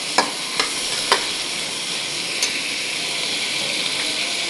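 Green peas dropped into a pan of frying ginger garlic paste, a steady bright sizzle with a few sharp taps and stirring knocks near the start, close and without speech.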